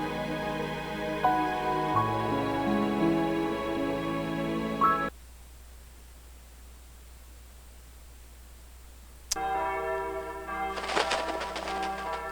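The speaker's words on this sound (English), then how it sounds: "The rolling sound of bells." Bells ringing in the visual novel Narcissu Side 2nd: sustained, resonant tolls layered with music, cutting out to a quiet hiss midway, then the ringing returns with a bright shimmer.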